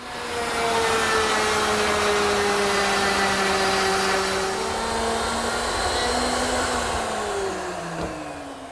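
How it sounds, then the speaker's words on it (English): A router cuts mortises into teak for the backrest slats of a hanging porch swing, a loud, continuous high whine with shifting pitch that runs nearly nine seconds and then tapers off, close and alone. "I set my router to make the mortises"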